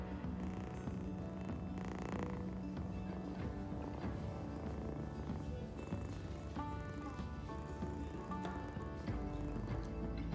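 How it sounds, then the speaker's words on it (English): A cat purrs steadily and close up, a continuous low rumble with faint rustling and handling noises over it. "It's his first purr."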